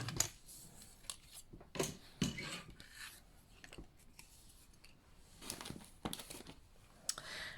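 Scissors trim the end of a paper card in a papercraft session, giving scattered quiet snips mixed with crinkling and rustling of the paper across several seconds, close up and without speech.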